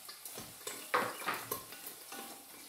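Mushrooms being stirred in a frying pan, with a utensil scraping and clinking in irregular strokes over a soft steady sizzle, close and moderately quiet, no voices.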